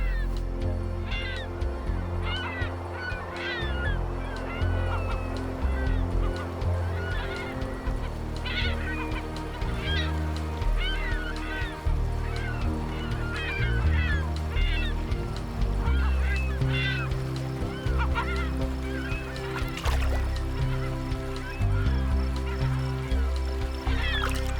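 A large flock of California gulls calls at a lake, dense overlapping honking and squawking cries that keep coming steadily throughout at close to moderate range, loud and continuous with no pause.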